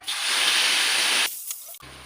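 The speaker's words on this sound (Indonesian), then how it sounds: "Sekarang kita goreng." Beef empal, boiled with a little tamarind until the liquid has reduced, frying in a pan: a loud, steady broadband sizzle for over a second, then quieter clatter and a short pause.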